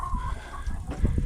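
Hens clucking inside a critter-proof hen house on a farm, a few short clucks and soft murmurs nearby over a quiet background.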